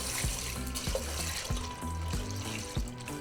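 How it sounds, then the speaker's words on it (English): Beef broth poured into a pot for one-pot taco pasta, a steady close liquid stream with gurgling and splashing under it, no talk. "We're going to add 3 cups of beef broth, along with 8 ounces of pasta."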